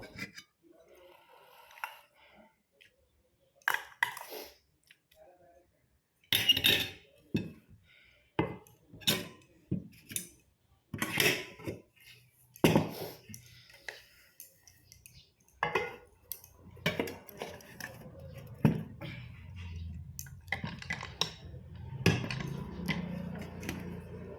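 Plates and steel cutlery clink and tap in scattered bursts while rice is served, sharp close knocks with quiet gaps, then a low rumbling background toward the end.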